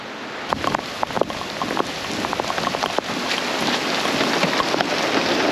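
Rain falls outside a shop, a steady hiss of drops with sharp spattering hits on surfaces, growing gradually heavier and close throughout.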